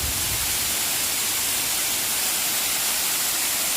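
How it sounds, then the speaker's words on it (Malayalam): Clear water from the Valanjanganam waterfall near Vagamon in Idukki crashes down in a steady, dense, broadband roar that stays constant and fills the space with no break. "നല്ല തെളിഞ്ഞ വെള്ളമാണ് വീഴുന്നത്"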